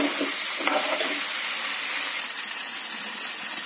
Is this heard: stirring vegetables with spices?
yes